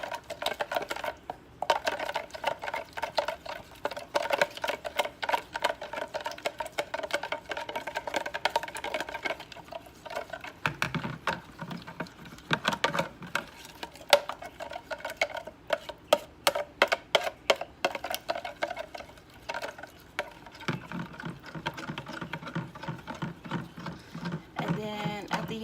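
Firecracker shrimp ingredients are mixed together in a bowl, giving quick, steady rhythmic clicking and clinking that runs throughout, with a voice talking over it at times.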